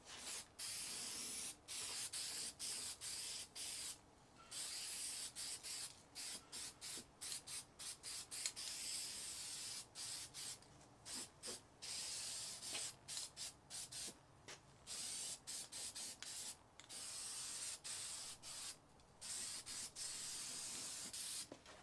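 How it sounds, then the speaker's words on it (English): Red oxide primer sprayed from a can onto bare metal spots of an old Lincoln buzz box stick welder, close hissing bursts in many short and long passes broken by brief pauses. "we're going to start out with just some red oxide primer, just on the bare metal spots"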